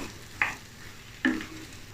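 Taro is stirred and fried in a pan, heard as two short, close scraping stirs over a faint sizzle.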